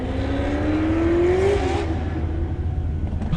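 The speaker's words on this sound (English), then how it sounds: "did y'all hear that Cadillac just ride by? I think that was a CTSV riding" A Cadillac CTS-V drives by at an outdoor car show in Atlanta, its engine note rising in pitch as it passes close and loud, then fading into steady crowd and lot noise.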